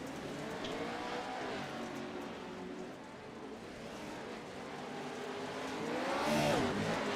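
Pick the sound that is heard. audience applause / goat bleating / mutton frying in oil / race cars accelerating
race cars accelerating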